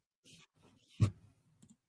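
A computer mouse clicking on links, with one sharp close click and a few fainter, softer clicks around it in a quiet room.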